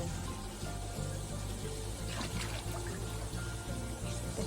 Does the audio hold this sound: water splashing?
yes